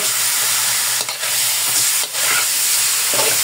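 Pork pieces fry in hot oil for pork humba, a loud, dense, close sizzle and crackle that holds steady, with two brief dips where the hiss momentarily thins.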